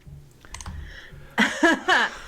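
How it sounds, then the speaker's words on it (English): A computer keyboard taps in a few quick, light strokes, then a voice speaks over it in three loud bursts that dominate the second half. "And Laura, what are you furiously clicking?"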